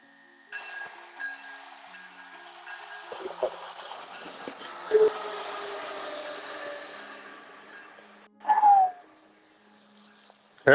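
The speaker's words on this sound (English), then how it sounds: "Train's coming." A train passes near a hiking trail, first as a faint rumble, then as a long steady roar with tonal whines that holds for several seconds before fading. A short, louder burst follows near the end.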